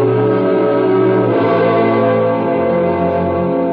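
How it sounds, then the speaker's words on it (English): A single church bell tolling in a radio mystery drama, one long resonant stroke ringing out and slowly decaying over a steady sustained hum, loud and close with no voices. "Do not send to know for whom the bell tolls. It tolls for the judge's next victim."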